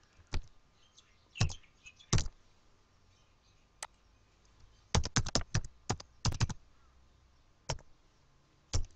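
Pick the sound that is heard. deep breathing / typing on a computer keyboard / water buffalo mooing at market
typing on a computer keyboard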